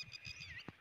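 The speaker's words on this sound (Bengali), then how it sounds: "এই পাখিটা হচ্ছে এত সুন্দর করে ডাকছে, এটাকে আমরা বলি হচ্ছে হট্টিটি পাখি।" A red-wattled lapwing calls outdoors, a short, faint, high-pitched repeated note heard at a distance, with a soft thump near the end.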